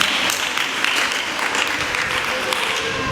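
A church congregation at a Sunday service claps steadily and densely for several seconds, a continuous wash of many hands with no pauses.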